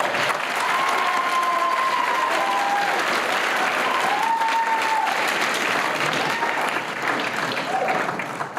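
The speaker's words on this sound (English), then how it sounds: "let's give a round of applause" A crowd at a senior awards night applauds steadily and loudly throughout, with a few cheers and whoops rising over the continuous clapping.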